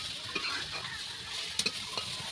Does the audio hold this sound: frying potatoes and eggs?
yes